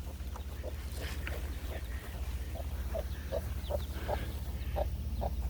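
Small chicks peep repeatedly beside their mother hens on a homestead farm, a run of short, evenly spaced cheeps over a low, steady background hum.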